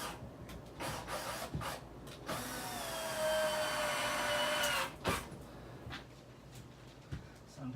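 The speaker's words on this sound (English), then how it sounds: "I don't like driving sheetrock screws." A power screw gun driving black sheetrock screws into drywall during a bathroom remodel, with a steady whirring, rising motor whine lasting a couple of seconds, bracketed by short bursts and knocks close by.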